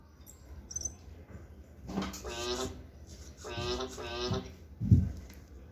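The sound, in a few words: EMO desktop robot pet imitating a frog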